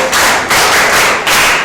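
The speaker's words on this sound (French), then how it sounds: "Applaudissez pour elle." Classmates clapping for a student in a classroom, a dense burst of applause that swells in roughly three waves over under two seconds, close and fairly loud.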